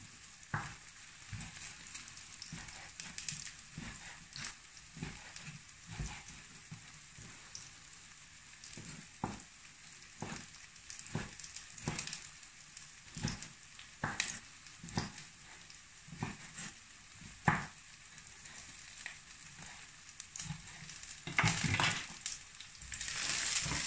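Rougail saucisse, sausages in a pan, fries and browns with a steady crackling sizzle broken by frequent clattering stirs, close and fairly loud, with no voices.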